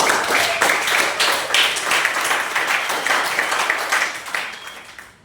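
A class applauds after group presentations, brisk dense clapping from many hands, loud at first and gradually thinning out as it fades over about five seconds.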